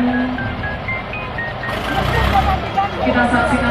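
Reversing beeps ring out in a steady repeated series from a police liquor-destroying truck as it maneuvers during the destruction of seized alcohol, with engine rumble and a crowd's voices underneath.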